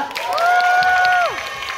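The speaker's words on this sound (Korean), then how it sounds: "예쁜 열렬한 환호, 호응 너무너무 감사드립니다" An audience cheers and claps in a cinema at a Sunday stage greeting for the film Pirates: The Royal Goblin's Flag, one bright rising shout or whistle riding over a steady wash of crowd noise.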